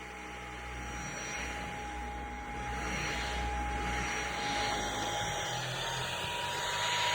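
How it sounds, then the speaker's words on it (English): A Roborock H6 Adapt stick vacuum cleaner runs steadily with a smooth whirring hum and a thin high whine, its pitch shifting slightly partway through; moderate and close. "it's a pretty quiet vacuum"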